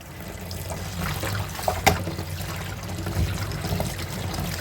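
Spinach leaves are rinsed in water, a soft continuous trickle and slosh of running water with a brief splash near the middle, close and fairly quiet.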